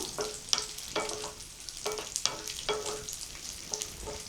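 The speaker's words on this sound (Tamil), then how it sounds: "காஞ்ச திராட்சை கொஞ்சம் லைட்டாக உப்பி வர அளவுக்கு இதை வந்து நம்ம வறுத்துக்கணும்" Raisins and roasted split gram fry in a pan with a soft continuous sizzle, broken by repeated scraping strokes of a spatula stirring them at an even pace.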